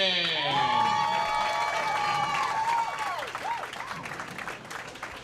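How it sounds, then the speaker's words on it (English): Steady crowd applause at a high school bowling championship fills the room, dense clapping with scattered cheers, while a loud tonal musical sound rings over it during the first seconds. "One more round of applause."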